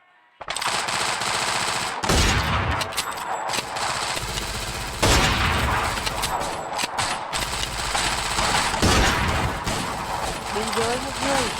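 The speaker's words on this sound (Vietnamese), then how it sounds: "và bắn 2 cây AWM." AWM sniper rifles firing in a shooter video game, heard as dense, loud bursts of gunfire with sharp onsets that run nearly the whole clip, plus talk and game sounds.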